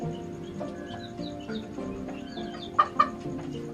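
Ornamental chickens of a breed from Turkey cluck softly and continuously, with a pair of sharper, brighter calls standing out near the end.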